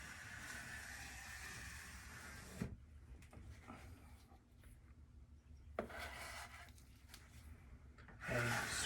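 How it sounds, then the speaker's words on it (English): Softened Citristrip stripping gel being scraped off a fiberglass door, faint rasping strokes rubbing across the surface in several separate passes, close and quiet, with a louder scrape at the end. "and we're just going to scrape out here."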